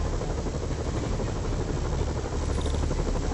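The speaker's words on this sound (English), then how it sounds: "Bet I can use those helicopters to swing." Helicopter rotors in Marvel's Spider-Man drone steadily and loudly throughout, a dense, unbroken whir with no voices.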